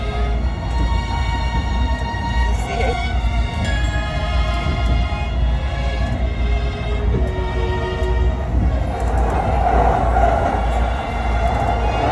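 Steady loud rumble of a train rolling along the rails between Tokyo and Kanagawa, Japan, with constant low droning and faint squeals, heard from inside the carriage.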